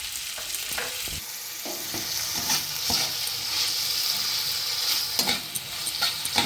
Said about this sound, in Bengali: এগুলো আমি বেশি ভাজবো না, হালকা ভাজবো।